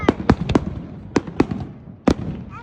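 Fireworks bursting outdoors at a family viewing, a series of sharp, loud booming pops in an irregular sequence, several close together then a final strong blast, with no talk over them.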